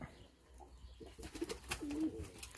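Soft pigeon coos sound faintly over quiet outdoor background noise, a few low murmuring calls close together.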